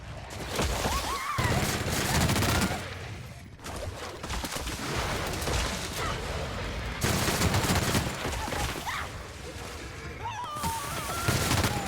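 Gunfire in The Outer Worlds: dense bursts of automatic and single shots crackling in loud clusters with brief pauses between volleys, game voices and effects mixed underneath.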